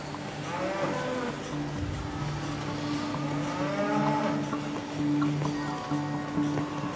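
Cows in a large dairy farm moo repeatedly, several drawn-out lowing calls overlapping in a busy, reverberant barn, with steady mechanical background noise throughout.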